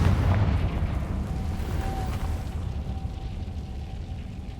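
A Confringo fire spell explodes in Hogwarts Legacy, a loud, sustained rumbling burst with heavy low-end roar and a faint tonal whine running through the blast.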